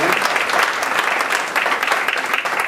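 Sustained audience applause fills the hall at an Armenian community lecture event, a dense, steady patter of many hands clapping with no speech on top.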